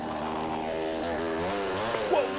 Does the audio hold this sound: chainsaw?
yes